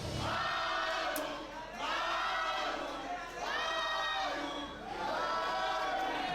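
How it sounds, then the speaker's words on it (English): A large wrestling event crowd roars and cheers in repeated swelling waves, loud and sustained, with chanting voices blending into the noise. "the crowd just cheering Manu"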